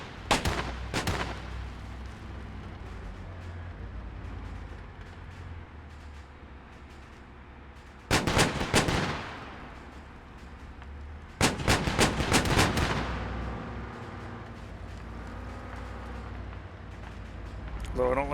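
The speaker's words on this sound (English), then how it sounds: "I don't like the explosions over there." Rumbling combat in the video game Arma 3 plays throughout, with sharp gunfire bursts and two loud clusters of explosive blasts standing out over the steady background din.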